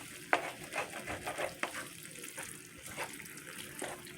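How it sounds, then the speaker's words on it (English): Spaghetti sauce being stirred in a pot in a home kitchen, giving soft irregular scraping and wet sloshing strokes with a faint sizzle underneath, moderately close and without talk. "Give it a gentle stir. And incorporate it."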